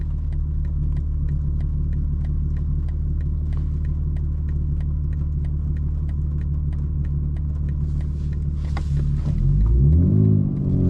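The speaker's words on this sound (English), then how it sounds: "Supra just pulled up, that's cool." A Toyota Supra rolls up on a Palm Beach street, its steady low engine rumble and exhaust drone holding close and loud throughout, with a brief rise and shift as it pulls in near the end.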